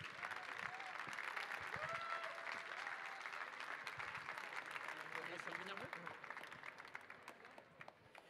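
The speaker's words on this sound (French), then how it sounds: "un tonnerre d'applaudissements pour la rédactrice en chef de Tribune Côte d'Azur, Madame Isabelle Ozias." Sustained applause from a French conference audience welcoming a newspaper editor-in-chief, a steady wash of many hands clapping with some speech-like sounds mixed in throughout.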